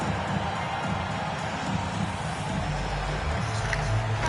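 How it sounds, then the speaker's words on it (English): Crowd cheering and applause fill an arena in the basketball video game NBA 2K22, a steady dense roar of noise from a large audience that holds throughout at even loudness. "One more round of applause for your performers."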